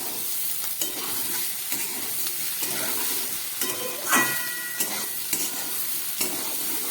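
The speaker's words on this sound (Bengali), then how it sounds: "নুন হলুদ দিয়ে আমি ভালো করে ভেজে ডিম দিয়ে দিলাম।" Vegetables fried with salt and turmeric, scrambled egg stirred through them in a pan, give a steady close sizzle with regular scraping strokes of a spatula and a few sharper clacks.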